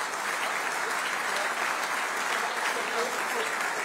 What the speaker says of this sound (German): dann sagen wir nochmal bitte einen riesengroßen Applaus für 60 Jahre Bundesliga